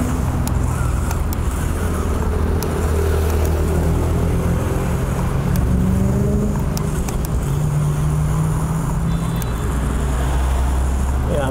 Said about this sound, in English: motors do feel like they lack power and are struggling to climb up